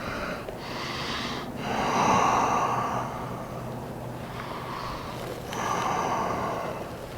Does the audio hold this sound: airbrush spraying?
no